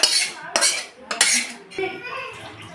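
A pot of soya bean curry is lifted off a kitchen stove, with a few sharp metallic clanks and scrapes of the pan and utensils in quick succession, close and fairly loud.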